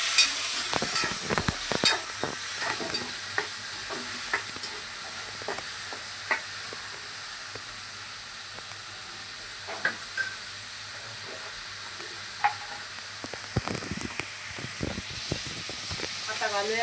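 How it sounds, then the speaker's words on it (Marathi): Onion and tomato frying in a pan with roasted chillies, a steady soft sizzle under occasional scrapes and taps of a spoon stirring, with a person speaking intermittently. "आता आपण घालूया कांदा टमाटा."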